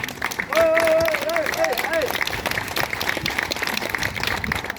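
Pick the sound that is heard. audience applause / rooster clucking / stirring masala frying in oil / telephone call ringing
audience applause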